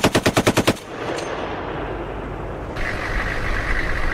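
Heavy M2 Browning machine gun fires a fast burst of about seven loud, close shots during US military training, then the sound gives way to a low rumbling echo and steady noise.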